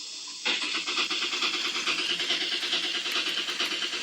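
A Bachmann Union Pacific ALCo 2-6-0 model steam locomotive starts moving in reverse, its sound system kicking in abruptly into a steady rhythmic chuffing with mechanical hum, close and fairly loud, no talking.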